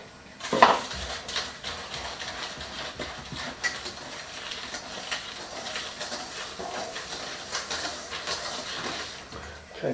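Custard mixture being stirred into eggs in a mixing bowl for croquembouche filling, giving a steady run of clinking and scraping from utensil against bowl, with a sharper clatter near the start and no talk.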